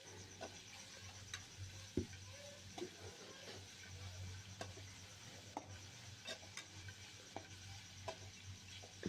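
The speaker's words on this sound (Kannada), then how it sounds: "ಕ್ಯಾರೆಟು, ಎಲೆಕೋಸು ಇದು ಹಾಕ್ಕೊಂಡು ಚೆನ್ನಾಗಿ ಫ್ರೈ ಮಾಡ್ಕೊತಾರೆ." Carrot and cabbage fry quietly in a pan for vegetable fried rice, a soft, faint sizzle broken by scattered light clicks and taps of a spoon stirring.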